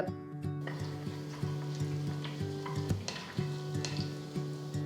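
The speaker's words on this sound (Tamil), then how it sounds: "எண்ணெய் சூடானதும் இதில் ஒரு பிரியாணி இலை ஒரு துண்டு பட்டை ரெண்டு ஏலக்காய் ரெண்டு கிராம்பு ஒரு டீஸ்பூன் சீரகம் சேர்த்து வறுத்துக்கோங்க" Whole spices (bay leaf, cinnamon, cardamom, cloves, cumin) frying in hot oil with a steady close-up sizzle and crackle, and an occasional scrape of stirring in the pan.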